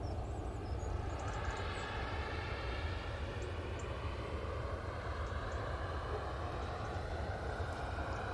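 A Qatar Airways airliner passes at Manchester Airport, a broad, fairly quiet jet roar that holds steady across the whole stretch without voices.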